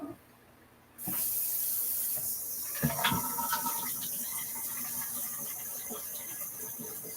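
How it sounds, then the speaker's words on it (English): Water runs from a tap into a container indoors, a steady broadband rush that starts abruptly after a second of quiet and continues evenly, with a few clinks near the start. "Put some more water in that."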